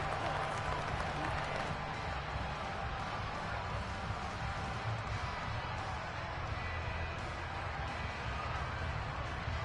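Crowd applauding and cheering at a football game after a defensive stop, a steady wash of clapping and noise from a large stadium audience, continuous throughout, with a commentator's voice faintly underneath.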